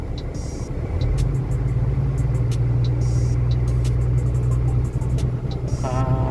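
An Isuzu truck engine rumbles and rises in pitch as the accelerator is pressed, a loud, steady, low mechanical drone with scattered clicks and faint ticking over it.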